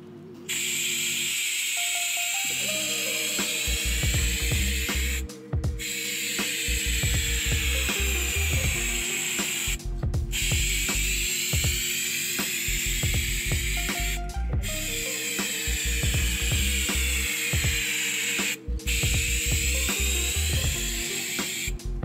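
Aerosol spray cans coat a Mazda Protege trunk spoiler, giving four long, loud, steady hisses close by, each separated by a brief pause.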